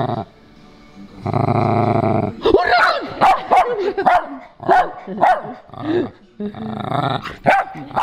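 A dog barks and growls close by in repeated bursts, with snarling rumbles between barks, preceded by a steady buzzing hum.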